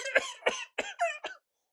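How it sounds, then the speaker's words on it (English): A streamer coughs five times in quick succession, each cough a harsh, fairly close burst, the last one shorter and weaker, followed by silence. "I have to get the coughs out at the beginning"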